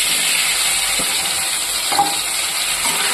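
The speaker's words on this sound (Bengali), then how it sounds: "একটু ভাজা ভাজা করে নেব" Potato and pumpkin pieces fry in a pan with five-spice seasoning and a bay leaf, giving a loud, even sizzling hiss with a couple of faint stirring taps.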